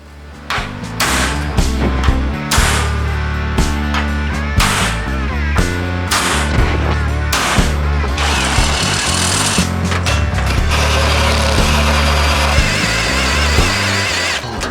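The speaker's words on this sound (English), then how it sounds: "we'll need to probably just put a pilot hole in these" A power drill boring pilot holes in a 1948 GMC running board panel, loud, close and continuous, with repeated pulsing bursts and pitch shifts as the bit bites into the metal.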